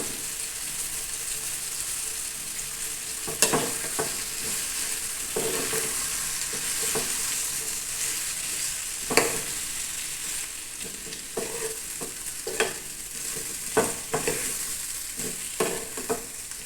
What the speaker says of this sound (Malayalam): മുളക് പൊടി ഇട്ടിട്ടുണ്ട് നന്നായിട്ടൊന്ന് വഴറ്റിയെടുക്കാം